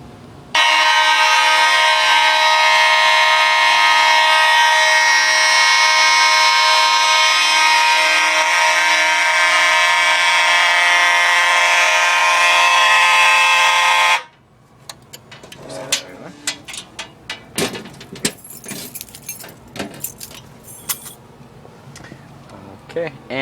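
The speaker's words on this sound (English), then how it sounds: "that pretty much concludes system test 2 of my fire alarm system" A home fire alarm system during a test sounds a loud, steady, continuous electronic horn tone for about fourteen seconds, then cuts off abruptly, followed by quieter clicks, handling noise and brief sounds.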